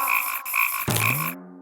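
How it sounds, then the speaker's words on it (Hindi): A cartoon frog in the Motu Patlu animated series gives a loud, close, buzzy croak that pulses three times, then slides down into a falling drawn-out tone before cutting off. "भागो, मेंढक वापस आ रहा है।"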